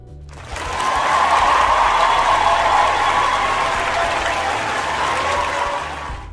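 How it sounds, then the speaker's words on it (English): Applause swells in after half a second and holds as a loud, dense, even wash of many clapping hands for nearly six seconds, with a faint low hum underneath and no talking. "let's give him a round of applause"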